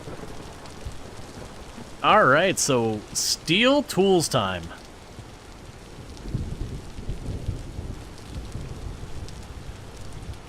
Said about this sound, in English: just listening to that lightning cracking off like that